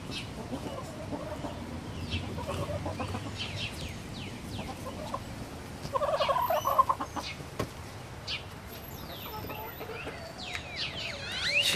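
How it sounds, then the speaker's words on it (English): Chickens clucking softly as they eat pieces of pork, a scattered, fairly faint run of clucks and calls with a brief louder burst near the middle. "These chickens are over here chowing down."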